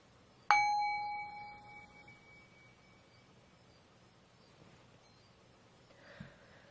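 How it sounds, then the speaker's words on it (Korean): A single bell struck once, ringing clearly with a bright tone that slowly fades over about two seconds in a quiet room, followed by faint background noise and a small soft knock near the end. "마음이 편안해지는 종소리 들려드리겠습니다"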